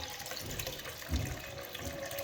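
Water pours steadily from a container into a bucket of PVA glue mixture for patching a wall chase, producing a continuous close splashing trickle with no talk.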